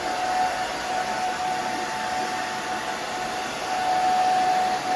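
A hair dryer runs steadily on hair, a continuous close whirring hiss with a faint tonal whine, staying even in level throughout with no talking.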